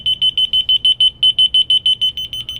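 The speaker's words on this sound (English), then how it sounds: "It's pretty loud. It's kind of a shrill, high-pitched beeping sound." A remote finder alarm held close gives a loud, shrill, high-pitched beeping in a rapid, even series of short pulses, with one brief gap before the beeps resume.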